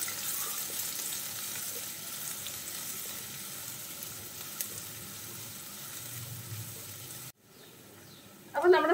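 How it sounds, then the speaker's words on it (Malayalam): Sliced onion sautés in a pan for a cauliflower stir fry, giving a continuous soft sizzle that cuts out abruptly near the end before a brief clatter. "ഇത് നന്നായിട്ടൊന്ന് വഴറ്റിയെടുക്കാം."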